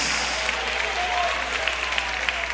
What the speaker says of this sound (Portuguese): dê aplausos para Jesus, dê aplausos para Jesus.